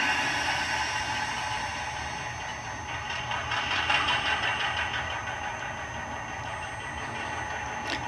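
Diesel prime mover sound from a TCS WOW sound decoder in a model locomotive, a steady idling engine drone with a brief rise in intensity midway before settling back, playing alone with no talk.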